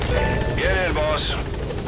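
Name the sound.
support helicopter arriving in Metal Gear Solid V video game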